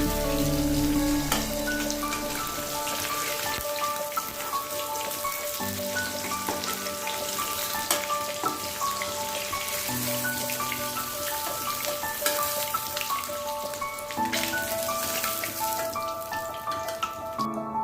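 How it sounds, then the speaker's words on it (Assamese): Pieces of snakehead fish fry in hot oil for a traditional Assamese fish and radish curry, giving a steady crackling sizzle that runs evenly through the whole stretch beneath soft background music. "ভাজি হৈ গৈছে মোৰ মাছ"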